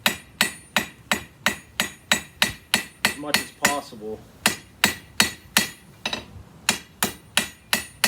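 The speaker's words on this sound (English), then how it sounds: "So I'm using the flat side of my hammer now, and I am drawing it out and smoothing it out" Flat face of a blacksmith's hammer drawing out and smoothing a taper on hot iron, struck in a steady series of about sixteen sharp, ringing blows, close and loud, with a brief pause mid-sequence where a voice speaks quietly.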